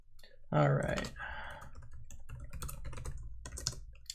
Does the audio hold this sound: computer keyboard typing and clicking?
yes